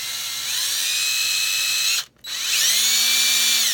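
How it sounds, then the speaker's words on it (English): A power drill whirs steadily at high pitch while drilling into hardwood, cuts out briefly for a moment, then spins back up and keeps running, close and loud. "And you drill down until you get your, you know, you're deep enough"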